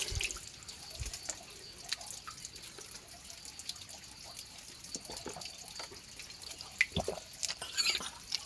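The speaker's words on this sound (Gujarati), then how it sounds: "આ ડોલ ભરી રહી" Water runs into a bucket at an old stone temple, a faint trickle with scattered irregular drips and splashes, close and quiet with no talking.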